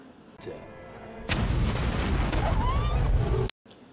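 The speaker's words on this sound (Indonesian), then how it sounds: "Setelah Big Jim meledakkan perahu mereka" A sudden loud explosive roar as a boat blows up, sustaining as a dense, rumbling blast with crackling debris, then cutting off abruptly.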